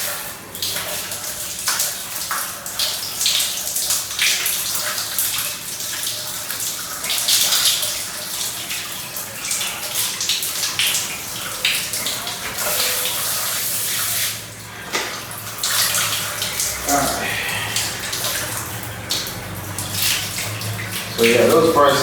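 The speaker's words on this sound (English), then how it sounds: "So let me take a shower." Shower running in a Havana lodging: a steady, loud hiss of spraying water lasting the whole stretch, with slight shifts in tone as the flow is interrupted, and no clear talking.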